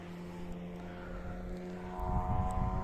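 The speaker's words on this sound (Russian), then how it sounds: "И рев моторов, конечно, слышен далеко." Rally car engines roar far off during a 2023 rally in snowy Alūksne, a faint, distant droning rumble that builds slightly toward the end.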